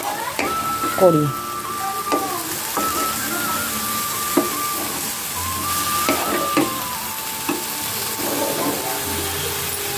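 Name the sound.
frying and stirring onion and garlic in a wok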